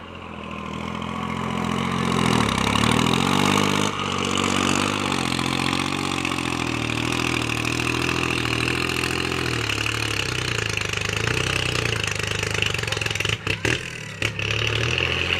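A Kubota L3608 tractor engine runs steadily while plowing out a pond, a loud close mid-pitched rumble with clatter, nearly continuous, briefly dipping twice near the end.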